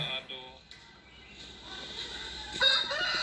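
A champion fighting rooster crows loudly close by, with people talking over and around the call.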